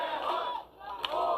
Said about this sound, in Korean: 자, 지지자들은 오세훈을 환호하고 있고요.